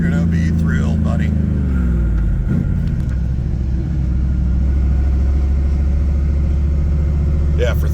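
A 532 stroker V8 built from a 460 EFI with a roller cam runs with a steady, deep, loud rumble throughout, while people talk over it.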